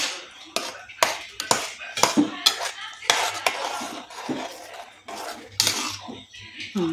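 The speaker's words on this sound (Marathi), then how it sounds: "एका हाताने कढई धर साईडला आणि एका हाताने मिक्स करायचं" A metal utensil scrapes and clatters against a kadhai while food is stirred, in irregular bursts of sharp scraping and knocks, close and fairly loud, with no talking.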